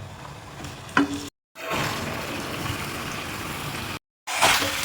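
Washed chicken dropped into browned onions in a frying pan for a Bengali chicken kosha, giving a burst of loud sizzling and frying hiss that settles into a steady crackle.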